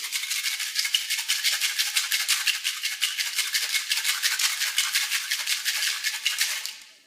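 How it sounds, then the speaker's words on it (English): A cocktail shaker packed with ice is shaken hard in a fast, even rattle of crisp clinks that runs steadily for about seven seconds before stopping abruptly. "we're gonna add some ice to this. You wanna shake it up really well, vigorously."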